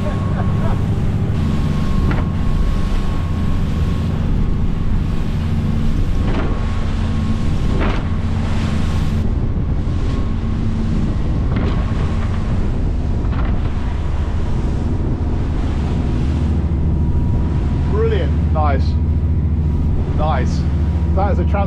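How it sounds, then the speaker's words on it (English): A boat engine roars steadily at speed amid heavy wind buffeting and water rush, with voices calling out now and then. "The engine just sounds so much happier"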